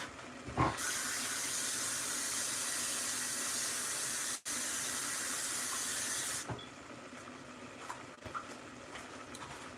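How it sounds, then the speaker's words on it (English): Mushrooms washed under a running kitchen tap: a steady close hiss of flowing water that stops abruptly, followed by faint handling noises and small clatters. "get some mushrooms. I'm gonna wash them."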